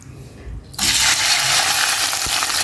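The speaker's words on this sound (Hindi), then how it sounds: "ऑयल गर्म हो चुका है, इसमें मैं चिकन डाल दूंगी" Boneless chicken cubes, 300 grams cut small, drop into hot oil in a kadhai and burst into a loud, steady sizzle that holds close and bright after a quiet moment.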